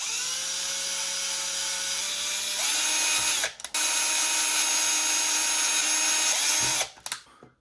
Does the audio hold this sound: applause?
no